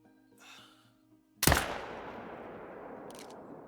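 A single loud rifle shot fired at a whitetail buck in the hunting game Call of the Wild cracks sharply after a quiet lull, leaving a long decaying echo, with a faint click following.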